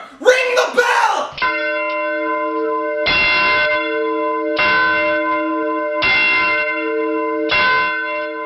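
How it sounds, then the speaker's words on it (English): A large alarm bell tolls loudly in a castle during a staged Macbeth performance, its rich sustained clang struck five times at steady intervals after a brief shouted voice. "Ring the bell!"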